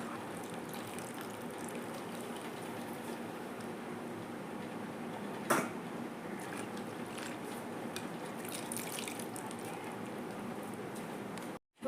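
Vegetables are rinsed in water in a home kitchen, a steady close splashing and trickling that runs throughout, with one sharp knock midway and an abrupt stop at the end.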